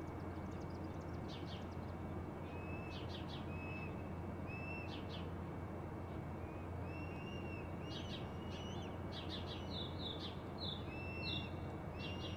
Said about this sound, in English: I just heard some bird